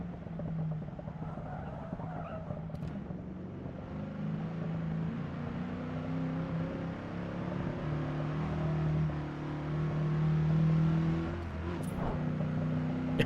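Ford 351 Cleveland 5.8-litre V8 Australian muscle car in Forza Motorsport, with a deep, steady engine drone that rises and falls as it holds revs, sustained and fairly loud, with a brief tyre squeal.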